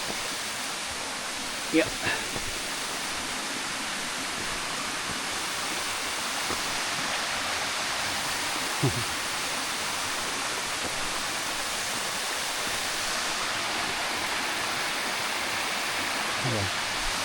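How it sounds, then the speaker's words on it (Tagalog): Lipit waterfall in Pangasinan pours as a steady, broad rushing roar close by, a constant wash of falling water with a few brief voices and handling noises over it. "Dito yung isang falls."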